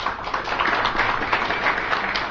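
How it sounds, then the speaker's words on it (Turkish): Audience clapping at a book launch event in Istanbul, a brief continuous wash of many hands applauding at moderate loudness with no pauses. "Yalnız lütfen alkışlar eşit olsun."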